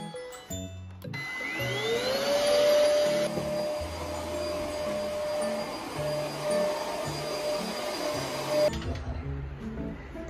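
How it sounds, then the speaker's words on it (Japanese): A vacuum cleaner runs steadily for most of the stretch in a home, a loud continuous whine with a rising pitch as the motor spins up at the start and a clear stop near the end. "私は掃除機かけます。"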